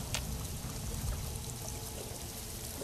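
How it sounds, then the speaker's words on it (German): Steady flowing water in Fallout New Vegas, a continuous broadband pour heard close and fairly loud throughout, with no talking. "Guck mal, hier gibt es noch fließendes Wasser."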